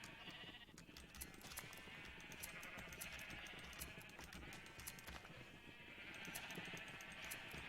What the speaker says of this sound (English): Sheep! Give me your wool, please.